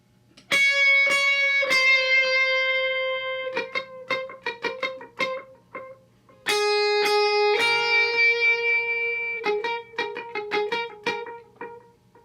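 Electric lead guitar plays a worship song's intro through a delay effect: ringing sustained notes with echoing repeats, then a run of short picked notes, the phrase repeating a second time, solo and clear without talk.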